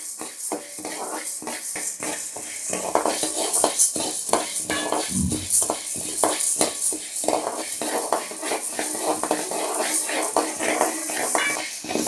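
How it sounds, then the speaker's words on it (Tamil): Urad dal roasting in a pan on a low flame, with a light, steady sizzle and a spoon stirring and scraping in quick repeated strokes, heard close up while a voice speaks faintly at times. "பாருங்கள் உளுந்து நல்லா வறுபட்டுருச்சு"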